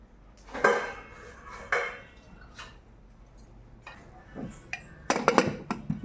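A pot of Andhra-style tomato dal is set down on a stove, with a few separate clattering knocks of metal cookware, moderately close and alone in a quiet kitchen.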